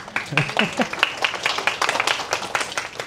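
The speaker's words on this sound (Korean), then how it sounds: "박수." A small audience claps in a brief, brisk burst, the claps dense and close, with a voice talking over them.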